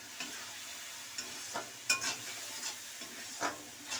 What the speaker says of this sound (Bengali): দিয়ে ভালো করে কষে নিতে হবে।